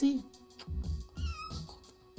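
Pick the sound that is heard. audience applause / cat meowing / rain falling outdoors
cat meowing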